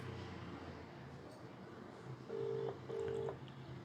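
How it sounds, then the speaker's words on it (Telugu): A phone dials a call, two short electronic keypad tones in quick succession over a faint household background. "ఇప్పుడైతే మావయ్య గారికి ఫోన్ చేస్తున్నాను."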